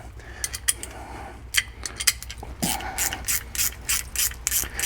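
A wrench ratchets a 13mm nut off a gated shifter, giving quick bursts of clicking pawl ticks, close and clear over a steady low hum.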